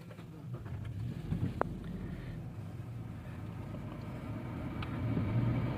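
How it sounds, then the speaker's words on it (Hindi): A Toyota Land Cruiser with a misfire and rough idle runs after a restart, its engine a steady low rumble close by with a few small clicks and no talking. "इंजन ऑफ करके दोबारा स्टार्ट करते हैं।"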